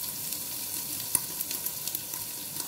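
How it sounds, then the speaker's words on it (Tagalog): Ingredients sizzle in a hot pan as they are sautéed, a soft steady frying hiss with small crackles and pops and no voices. "Lahat itong mga sahog natin ay ibigisa na natin ito."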